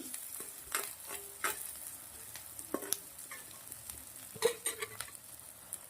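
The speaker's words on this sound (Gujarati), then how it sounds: "એને પણ આપણે ઘીના અંદર સાંતળી લેવાની છે" Fresh sweet corn sautéing in ghee, with a faint steady sizzle and scattered clicks of stirring and a spoon scraping the pan, close up and with no voices.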